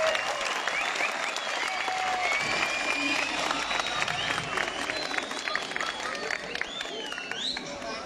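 Audience applause for a choir and orchestra at a May 19 youth concert in Tekirdağ, a dense, sustained wash of clapping with some cheering, loud and continuous across the whole clip.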